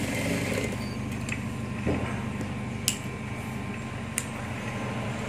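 A sewing machine stitches the back pocket of a pair of trousers. It gives a steady, close mechanical whir with a few sharp clicks and ticks scattered through it.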